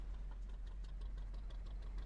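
A boat engine aboard a long-line fishing ship in a video game, running as a steady low-pitched drone with a faint knocking pulse, close and continuous.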